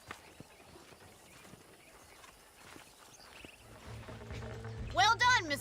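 Horse hooves clip-clopping in the video game Red Dead Redemption, a soft irregular run of hoofbeats under game ambience, followed by a louder closing swell of sound near the end.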